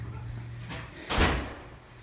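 A locked college dormitory door opens with a soft rattle followed by a louder swinging thump and a fading rush, close by, with no talking.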